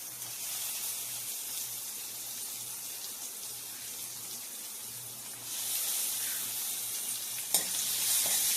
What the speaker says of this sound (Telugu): తరిగిన ఉల్లిపాయలు వేసుకుంటున్నా.